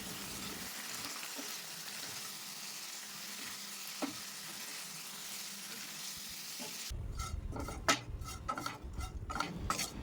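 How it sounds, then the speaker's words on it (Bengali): Marinated chicken with a spoonful of chili flakes frying in white oil in a wok for chicken chowmein, a steady close sizzle with a spatula stirring and scraping, growing louder and more clattery toward the end. "এক চামচ চিলি ফ্লেক্স দিয়ে মাংসটা লাল লাল করে ভেজে নেব।"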